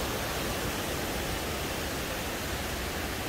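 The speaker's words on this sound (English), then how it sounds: "The rapids. Water falling at high speed." Rapids in a river at Las Conchas nature park in Guatemala, water rushing at high speed, give a loud, steady broadband roar that fills the whole clip without a break and with no voices.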